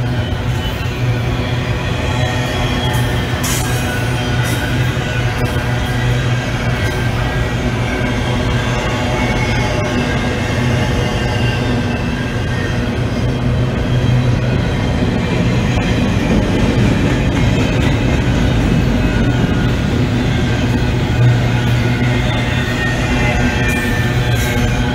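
A BNSF train of two trains coupled together rumbles steadily past at close range in Flagstaff, with a dense clattering roar, metallic rattles and occasional high squeals from the wheels.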